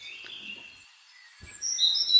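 Small birds at a bird sanctuary on the Ooty main road, giving thin, high chirps and tweets scattered across the moment, faint and fairly close, with a soft thump partway through.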